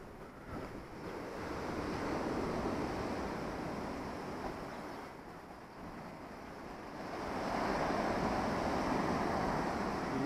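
Waves wash onto Massandra Beach in Yalta, Crimea, swelling and receding in slow surges, with wind noise blowing across the microphone and no voices.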